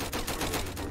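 Rapid bursts of gunfire from a shotgun in the Roblox Flag Wars video game, dense and continuous across a short moment, loud and close with no talk over it.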